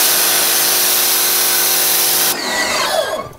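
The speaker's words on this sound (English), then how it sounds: "this is gonna be pretty close with a 25 degree pressure washer nozzle" A pressure washer with a 25 degree nozzle roars loud and steady for a couple of seconds, then cuts off into a sputtering, descending whine as the spray stops, working near white paint on a Mustang's tire lettering.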